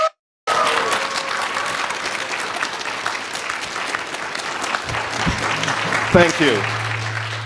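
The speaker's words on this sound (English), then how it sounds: "give me another round of applause" Sustained applause from a convention audience at an online furry convention opening ceremony, steady and dense for several seconds, with a brief spoken thanks near the start and a low hum and faint clicks toward the end.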